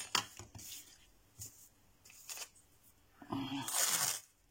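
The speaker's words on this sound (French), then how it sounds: "mes ciseaux font un petit bruit" Scissors snipping paper while making a folding mini album: several short crisp cuts and rustles, close and soft, with a longer louder stretch of snipping and paper handling near the end.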